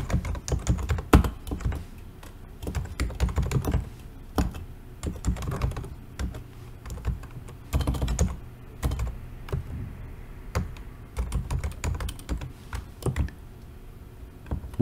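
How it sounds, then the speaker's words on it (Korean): Steady computer-keyboard typing of code, with quick bursts of clicky keystrokes separated by short pauses, close and alone with no voices. "다음 코드를 입력합니다."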